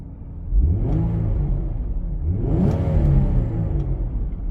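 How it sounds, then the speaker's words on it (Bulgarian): A warmed-up Infiniti G35 coupe engine revs up loudly from idle, with a rising, sustained throttle blip that swells again near the middle before settling into a steady, close engine roar. "Позволявам се да давам газ,"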